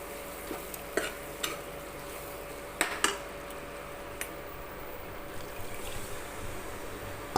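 Water is poured into a pan of okra tamarind curry cooking on the stove, giving a steady sizzle and bubbling with a few sharp clinks of a spoon against the pan.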